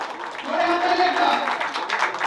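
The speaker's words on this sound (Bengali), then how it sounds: "জোরে হাততালি একটা।" Loud audience clapping fills a Bangla stage drama event, a steady wash of applause under a talking voice.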